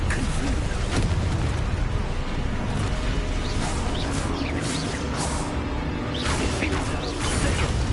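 A Confringo blasting spell in the Hogwarts Legacy video game: a dense, loud rush of fiery whooshing and crackling bursts that sustains throughout, with sharp flares of impact layered over steady game noise.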